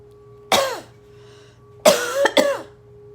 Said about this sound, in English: Cough it out of you.